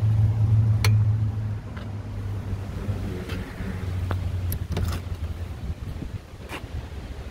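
Original 1932 Buick Series 50 touring sedan with a straight-eight engine idling, a low, steady rumble that is strongest at first and then softens under wind noise and faint clicks and knocks.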